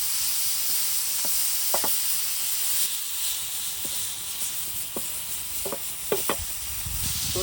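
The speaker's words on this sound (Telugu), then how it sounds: "మా వాడు చికెన్ ఫ్రై అని చెప్పి చికెన్ కబాబ్ చేస్తున్నాడు పెనం మీద" Chicken kebab sizzling and frying on a flat pan, a steady close hiss with occasional sharp pops and crackles, no voices.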